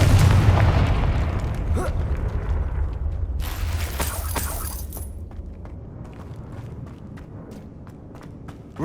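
A magical Confringo fire spell in Hogwarts Legacy bursts with a deep boom and crackling blast, followed by a fading rumble and light scattered clicks as things settle.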